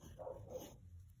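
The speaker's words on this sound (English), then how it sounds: "Excuse my dog barking." A dog barks a couple of times somewhere in the room, the short yaps fairly faint and muffled in the background with no talking over them.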